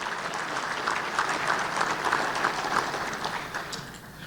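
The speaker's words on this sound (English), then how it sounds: "can we give a round of applause to our sponsors" Guests at a chamber of commerce luncheon give a steady round of applause for sponsors, a dense, even patter of many hands heard from across the room, tapering slightly at the end.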